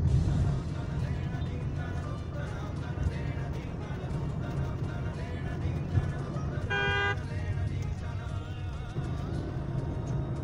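A car arriving and giving a single short honk of its horn partway through, over steady road and engine rumble, with faint voices in the background.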